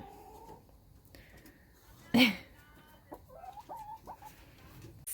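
Chickens cluck softly nearby in short, scattered calls, with a sudden loud burst of noise partway through.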